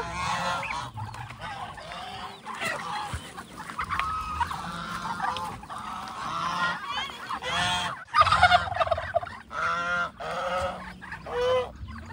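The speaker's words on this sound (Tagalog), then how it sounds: "baka mangtuka tong pabo" Repeated loud turkey gobbling and honking bursts come in quick succession close by on a rural Philippine farm, with a few brief human voices mixed in.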